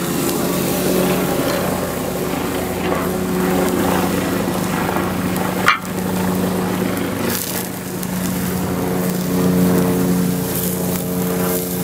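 Two helicopters pass overhead with a continuous, fairly loud rotor drone that holds steady throughout, with one brief sharp knock in the middle.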